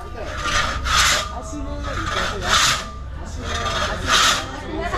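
A very large saw cuts through a big log of wood for door and window timber in an African village, giving rhythmic rasping strokes about every one and a half seconds, close and fairly loud, with voices talking in the background.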